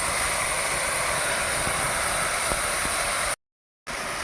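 Panch phoron spices, chopped onion and mustard-chilli paste frying in oil in a pan, giving a steady loud hiss that cuts out briefly near the end before resuming.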